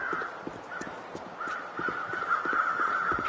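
Crows caw repeatedly in the snowy wilderness of The Long Dark video game, harsh calls over a steady windy background with footstep-like thuds, moderately close and with no talking.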